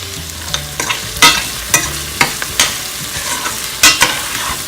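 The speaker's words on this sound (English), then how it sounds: "So you want to saute this until you see the pimentos, the onions, and the garlic have softened" Pimentos, onions and garlic sautéing in a pan for a Madras salmon curry, with a steady sizzle and a series of sharp, close spoon scrapes and taps at an uneven rhythm, fairly loud with no voices.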